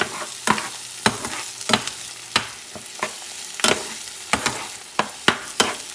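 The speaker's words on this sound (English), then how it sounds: "And I'm mixing everything nicely." Beans with chorizo frying in a pan while being stirred, with a steady sizzle and about a dozen sharp scraping strokes at an irregular rhythm, close and fairly loud, with no voices.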